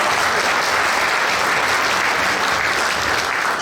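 Loud, dense applause from the audience at a Republican Club meeting at Heritage Ranch, sustained evenly throughout without a break.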